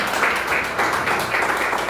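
A church congregation applauds together, a steady, dense wash of clapping that fills the whole stretch at an even loudness, swelling slightly in waves.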